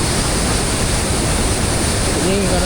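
Rivers swollen by flooding in Medan rush with a loud, steady broadband roar of moving water that never lets up, with a faint voice near the end.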